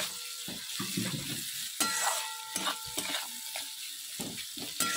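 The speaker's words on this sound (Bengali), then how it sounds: "ভাত ভাজা করব বলে দেখো গাজর আর পেঁয়াজটা ভেজে নিচ্ছি।" Carrot and onion frying in a pan for fried rice, a constant sizzle broken by repeated scraping and stirring strokes of a spatula, heard close with no talk.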